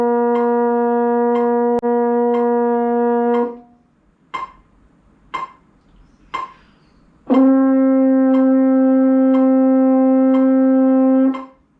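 A French horn holds a long, mellow, steady note, four soft ticks mark a rest, then a second sustained note rings out, loud and close.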